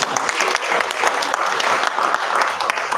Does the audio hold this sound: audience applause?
yes